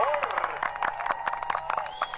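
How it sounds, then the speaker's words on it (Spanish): An audience claps at the inauguration of a children's hospital, with dense, uneven applause made of many sharp hand claps and scattered cheers sounding moderately close, plus a brief raised voice near the start. "Un aplauso, por favor."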